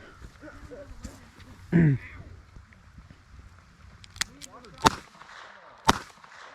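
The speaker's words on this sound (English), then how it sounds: "I'm shooting both guns" Shotguns firing flaming rounds at an outdoor target give two sharp, booming reports a second apart near the end, following an earlier muffled thump, with faint voices and quiet background between shots.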